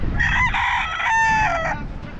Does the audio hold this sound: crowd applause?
no